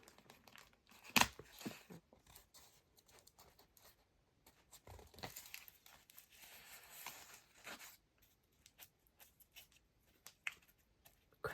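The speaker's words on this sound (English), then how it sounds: "this has to be ripped here." Paper being ripped and crumpled by hand for a junk journal: close, dry crinkling and tearing in irregular bursts, with a sharp rip early on and quieter rustling between, no talk.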